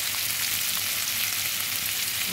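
Papaya and potato pieces fry in hot oil for a chicken curry, a steady close hiss of sizzling that holds even throughout without any voices.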